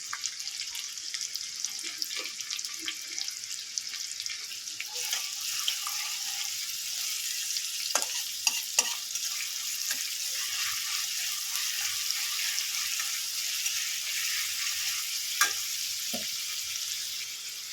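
A medium onion sizzles and fries steadily in a pan, broad crackling hiss throughout with a few sharp pops and stirring scrapes, while flour-based breakfast snack ingredients cook; no talking.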